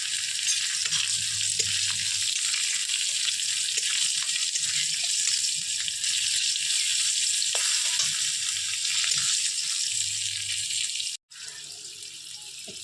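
Chilli, chopped garlic and nigella seeds fry in hot oil, giving a steady, loud, close sizzle that runs unbroken for the whole stretch, with only a brief cut near the end and no talking.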